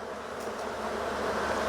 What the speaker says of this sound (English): It's going to pretty much shake the rest of these bees in here.